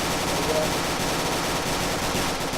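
Sustained gunfire in the Executive Assault video game, a dense unbroken rattle of automatic shots at steady loudness throughout with no gaps.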